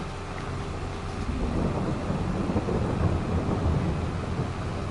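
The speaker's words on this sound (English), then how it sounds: "the Thunder does sound pretty awesome, actually, doesn't it?" Thunder rolls through a broad, continuous rumble with rain-like hiss in Farming Simulator 22, holding steady and loud for the whole stretch with no clear individual cracks.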